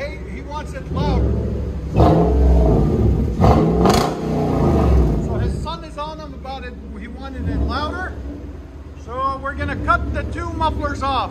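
A 2017 Nissan Titan 5.6L V8 pickup with dual side exhaust roars through loud revs, its deep rumble rising and falling, while people talk nearby over the engine.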